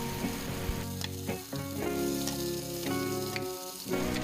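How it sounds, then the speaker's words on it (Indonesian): Spice paste sizzles and crackles steadily in a hot wok, close up, with occasional scrapes of stirring breaking through the hiss. "Tumis bumbu hingga benar-benar harum dan juga matang."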